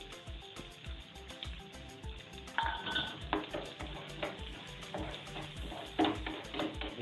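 Onions sizzle steadily in oil in a pan as they are stirred while making poha, with soft scraping and clinks over a constant crackling hiss.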